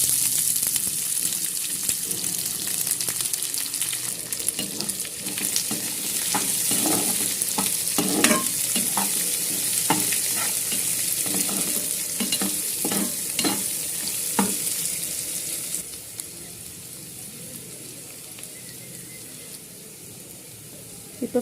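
Onion and curry leaves fry with mustard seeds, urad dal and chana dal for South Indian idli upma, a steady close sizzle broken by repeated scraping stirs, quieter toward the end.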